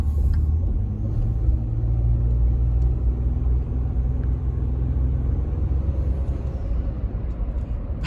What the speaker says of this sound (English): Twin turbos in a truck.